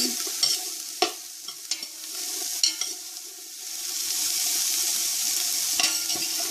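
Garden-grown celery and carrots sauté in a pan, a soft steady sizzle broken by several sharp clacks of a utensil stirring against the pan early on, then a smoother hiss.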